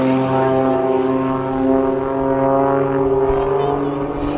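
Rich Goodwin's Pitts S-2S aerobatic biplane, fitted with a petrol propeller engine and twin jet engines, drones steadily at an air show, a sustained loud tonal roar with prominent engine harmonics holding throughout.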